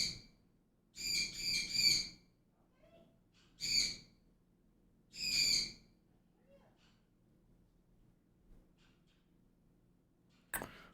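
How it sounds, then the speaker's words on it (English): Bird calls outdoors in the early morning, several bright chirping bursts in short clusters with pauses between them, moderately near, plus a brief sharp call at the end over a low steady background hum. "Sounds like happy birds to me"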